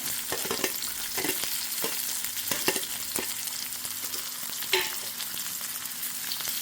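Onion, green chilies and cumin frying in hot oil give a continuous close sizzle, broken by repeated scraping stirs at an uneven rhythm.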